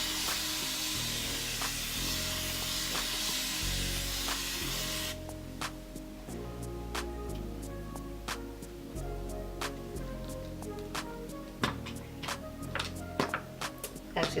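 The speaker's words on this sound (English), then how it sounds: "I'm gonna spray some water first." Water misted from a plastic spray bottle onto curly hair during a wash-and-go styling routine: a steady close hiss for about five seconds, then it stops, leaving soft handling and rustling sounds.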